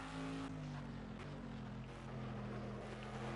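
Racing car engine held at full throttle in the Project CARS video game, a steady loud droning whine with slowly shifting pitch, sustained without pause.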